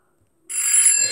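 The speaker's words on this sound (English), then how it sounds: "That's my alarm to wake up me." An alarm clock ringtone starts abruptly after a short silence and rings loud and steady, a bright electronic tone close by.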